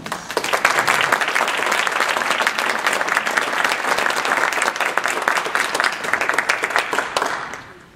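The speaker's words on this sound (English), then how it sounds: "please give him a big round of applause" Sustained audience applause at an evening talk on Iowa broadcasting, dense, loud clapping from a large crowd that holds steady for several seconds before tapering off at the end.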